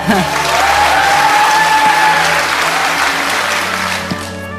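A studio audience applauds warmly after a singer's performance on Korea's Got Talent, loud sustained clapping from a large crowd that fades slightly toward the end, with voices mixed in.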